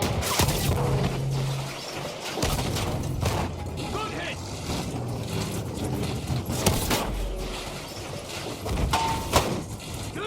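A tank gets repaired with a wrench in Battlefield 1: clanking, ratcheting mechanical sounds mixed with crashes and battle noise, with a voice talking over it.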